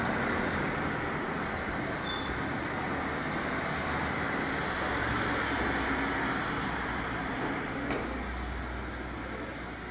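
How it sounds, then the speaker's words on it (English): Two coupled Class 153 diesel units pulling out of Shrewsbury station on a service to Crewe, a steady loud engine rumble and wheel noise close by, holding level throughout. "Now we see departure of 153968 and 153325 working the 1619 Transport for Rail service to Crewe."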